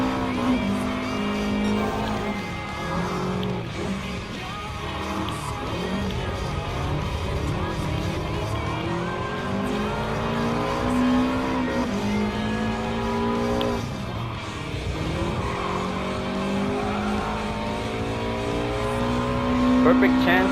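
A Subaru Impreza 22B-STi races in Gran Turismo Sport, its engine revving and shifting through gears with rising and falling pitch and occasional tire squeal, while a person talks over it throughout.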